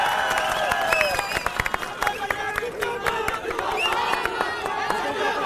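A political rally crowd welcoming Sanjay Singh with scattered claps and cheers under a sustained loudspeaker voice, with a whistle-like tone mid-way.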